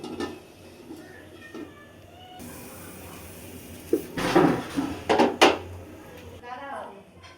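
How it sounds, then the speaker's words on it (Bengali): Cooking pot set down on a stove in a home kitchen during preparation of Old Dhaka chicken pulao, a few clattering metal knocks and scrapes in a short cluster after quieter handling sounds. "আমি চুলায় পাতিলা বসাই দিব।"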